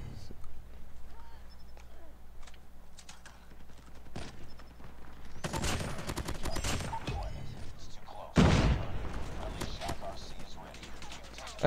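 Bursts of gunfire in COD Mobile, several loud volleys rising above steady game noise, one sharp blast near the end, with a player's voice talking over the action.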